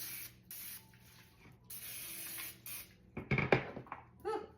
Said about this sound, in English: spray it good with cooking spray